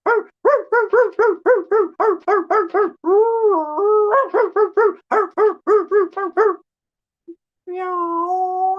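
A dog gives a rapid series of short yapping barks, then a few drawn-out whining howls, more quick barks, a pause and a final long howl, loud and close.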